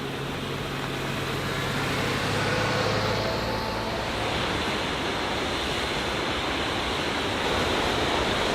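A waterfall near Churchill Falls roars as steady broadband rushing water, loud and unbroken throughout, with no voices.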